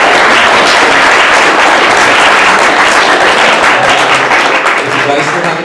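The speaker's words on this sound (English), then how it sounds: "So let's give one more round of applause." Sustained applause from a lecture audience at a science Q&A event, dense clapping that carries steadily at full volume and thins slightly toward the end.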